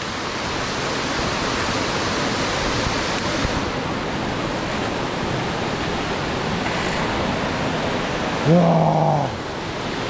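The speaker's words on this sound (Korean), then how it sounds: "이게 엄청 크네 실제로 보니까 광폭포" A large waterfall in Sogeumgang Valley, Odaesan, South Korea, roars steadily with dense, broadband rushing water, constant and loud throughout, with a brief higher tone near the end.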